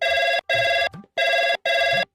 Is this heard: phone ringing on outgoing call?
yes